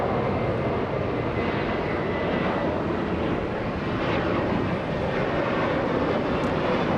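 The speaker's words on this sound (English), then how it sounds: "The aircraft you're hearing right now, a 737 Southwest, using 25 right for takeoff." A Southwest Boeing 737 takes off from runway 25 right at Los Angeles International Airport, its jet engines producing a loud, continuous broadband roar that holds steady throughout.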